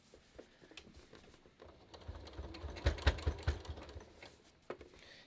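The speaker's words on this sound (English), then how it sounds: "I'm just going to stitch a little bit off this corner so I can show you" A sewing machine stitches a corner of a fabric banner, with soft rapid mechanical patter that swells into a louder run of stitching midway, then eases back; no talking.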